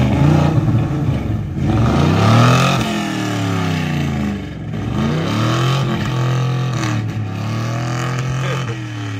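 Old GMC truck engine idling and revving repeatedly, loud and close, with pitch swooping up and falling back in several long rises across the stretch.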